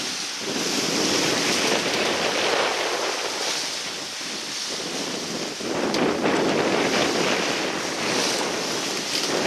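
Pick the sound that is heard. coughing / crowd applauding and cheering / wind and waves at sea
wind and waves at sea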